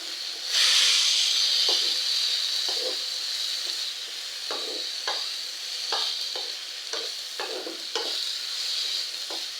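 Turmeric powder stirred into coriander chutney frying in a pan: a steady, close oil sizzle with a hiss, broken by repeated soft scraping stir strokes.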